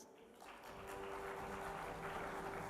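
Graduates at a graduation ceremony in Dubai applaud together, a steady dense wash of clapping that holds evenly at a moderate distance with no talk over it.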